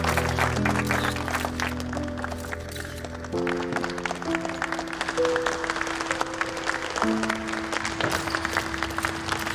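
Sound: audience applause welcoming the voice actors

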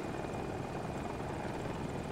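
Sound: helicopter in video game Battlefield 2042

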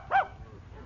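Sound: dog barking in radio drama

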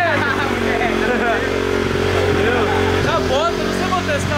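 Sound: mini motorcycle engine running on aviation fuel

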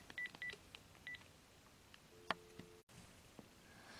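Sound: telephone dialing tones

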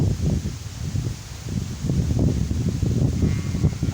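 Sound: strong wind blowing

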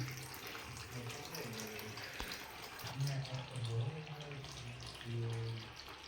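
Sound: water flowing with air through a tube while draining an aquarium

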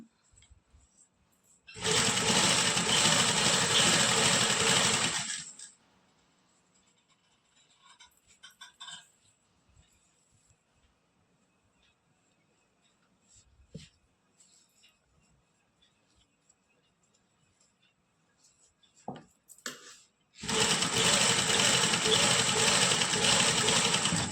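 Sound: sewing machine stitching piping onto a lined suit

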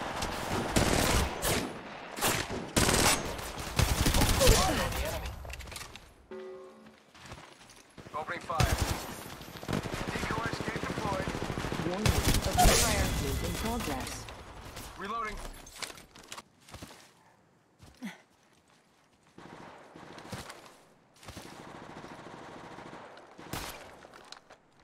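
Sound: gunfire in video game Apex Legends Mobile

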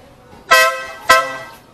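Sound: newly installed big car horn honking

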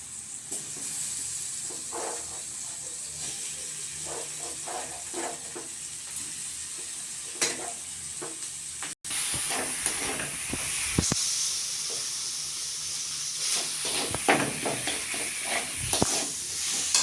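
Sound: potatoes frying in spiced masala

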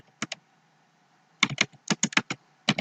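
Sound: typing a formula on a computer keyboard

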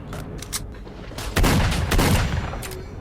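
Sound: machine gun fire in the video game S.T.A.L.K.E.R.: Shadow of Chernobyl

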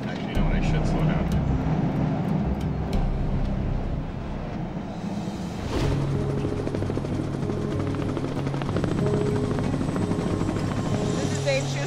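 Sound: helicopter

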